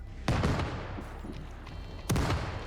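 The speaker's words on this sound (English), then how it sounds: "Cannons are flying on both sides" Two loud cannon shots ring out about two seconds apart in a close-quarters pirate versus British ship fight in Holdfast: Nassau 1715. Each is a sharp boom with a long rolling decay over a steady din of naval combat.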